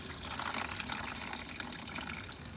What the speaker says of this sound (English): just drain the pressure out into my bucket